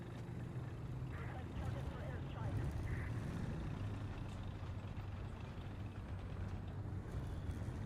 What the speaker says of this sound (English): Leopard 1 also has a really loud engine.